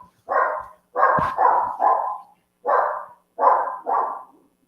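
A dog barks repeatedly in a home kitchen: seven loud, close barks in uneven pairs and singles, with short gaps between them and no talking.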